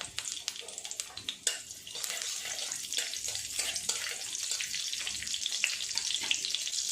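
Nigella seeds and a green chili sizzle and crackle steadily in hot oil, with sharp pops scattered over a continuous close hiss.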